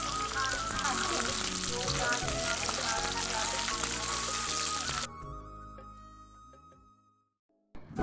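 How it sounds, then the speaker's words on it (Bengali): Chopped onions hiss and sizzle loudly in hot oil in a kadai for biryani, a dense crackling frying sound that cuts off abruptly and gives way to quieter tones. "তো তেল দিয়ে এই যে পেঁয়াজটা এবার আমি ভাজবো।"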